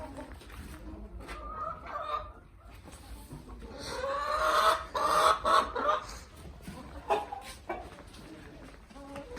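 Desi hens cluck and murmur close by on a Punjab farm, a busy overlapping chatter that swells to louder squawking bursts midway, with no talk over it.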